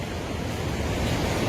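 Natural spring water pouring out of a rock at Aharbal makes a steady, loud, broadband rush that stays even throughout, with some wind-like noise and no voices.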